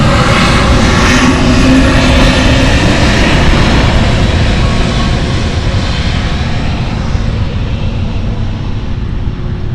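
Airliner on the Heathrow flight at Frankfurt Airport, a loud, close, continuous engine roar that fades slightly toward the end, with no talk.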